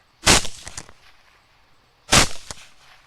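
Two sharp rifle shots roughly two seconds apart during a hog hunt outdoors, each a loud crack followed by a short rolling echo.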